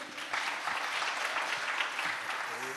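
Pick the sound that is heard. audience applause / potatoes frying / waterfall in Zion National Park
audience applause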